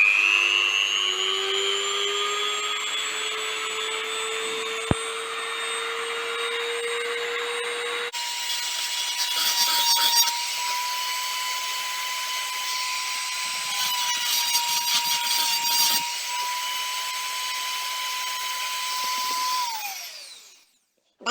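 A Dremel rotary tool with an abrasive bit deburring the inside of a 50cc engine casing, a steady high whine that shifts pitch as it grinds, rubbing and scraping against the metal before spinning down at the end.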